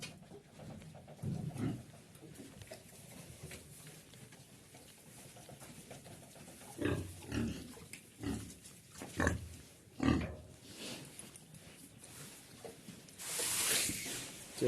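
A long, thin sow in a barn pen gives intermittent grunts and snuffles in short bursts, close to the listener, with quieter stretches of rustling between them.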